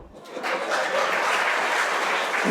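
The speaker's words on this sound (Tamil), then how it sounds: "ஏன் கைத்தட்டு கம்மி தெரியுமா" Audience applause at a Tamil comedy stage talk, a steady wash of clapping that swells in after a quiet start and holds fairly loud for a couple of seconds.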